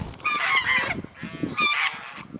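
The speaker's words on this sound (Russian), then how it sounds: "Гуси, видите?" Domestic geese honking nearby on a rural farmstead, two loud bursts of nasal, raspy calls with a short pause between, no talking over them.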